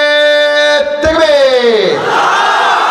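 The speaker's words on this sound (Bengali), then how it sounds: "এবার আমার বিবাহিত ভাইরা তাকবীর দিবেন প্রথমবার" A crowd of married men at a madrasa gathering shouts a takbir in unison, a loud, sustained massed chant that swells, breaks and rises again before dissolving into a broad roar.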